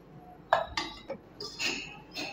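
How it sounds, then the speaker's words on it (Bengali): A cake pan lifted off a stove with dishes and metal clinking, a few close, sharp clanks and rattles spaced irregularly over a couple of seconds, moderately loud against a quiet kitchen. "তাহলে এখন আমি কেকটাকে নামিয়ে নিচ্ছি"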